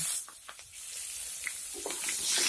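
Chopped onions with cinnamon, cloves, cardamom and bay leaves frying in hot oil for a goat meat curry, a soft close sizzle with scattered crackles and stirring scrapes, steady and unbroken by talk.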